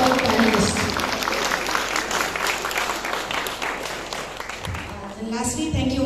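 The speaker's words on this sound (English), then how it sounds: "let's give a very big applause to all the students as well as to all the panelists" Audience at a corporate leaders conclave applauds students and panelists, a dense sustained round of clapping from a crowd, with a voice speaking at the start and end.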